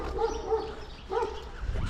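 A leashed dog barks a few times in quick succession outdoors in Pogradec, Albania, the yelps moderately loud over steady wind and street noise.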